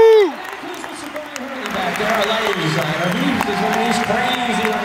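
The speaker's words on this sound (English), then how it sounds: "give each and every member of our crew a huge round of" A concert crowd breaks into sustained applause and cheering, a dense wash of clapping and whoops that swells after a brief voice and holds steady to the end.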